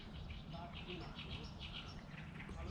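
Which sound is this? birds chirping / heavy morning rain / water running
birds chirping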